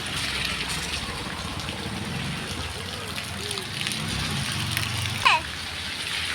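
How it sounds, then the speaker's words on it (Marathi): Steady rain falling in a continuous wash of noise while people talk nearby, with a brief sharp knock near the end. "काहून की इकडे लय पाऊस चालू आहे ना"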